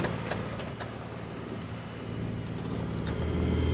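A sailboat's engine runs with a steady, even low drone on a grey morning along the coast, with no talk over it.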